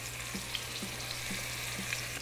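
Short ribs browning in olive oil in a Dutch oven give a steady, close sizzle with a faint low hum beneath and a few soft pops, no voices.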